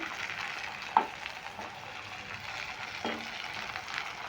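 Quiet, steady sizzling of pumpkin leaves coated in ground red lentil paste frying in hot oil in a wok, with a couple of soft utensil taps against the pan.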